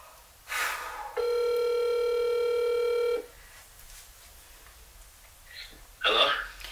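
A steady electronic ringback tone sounds for about two seconds, framed by brief bursts of voice or noise before and after.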